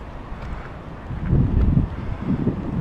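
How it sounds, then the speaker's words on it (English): Wind gusting across the microphone while sailing RC Laser model yachts, a low rumbling buffet that swells and eases over a few seconds. "1 minute there's wind, next minute's gone."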